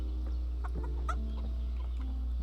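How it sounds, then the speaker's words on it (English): Chickens clucking softly in the video game Kingdom Come: Deliverance, a scattering of short, faint clucks and chirps over a steady low hum, with no talking. "Chicken, chicken, chicken."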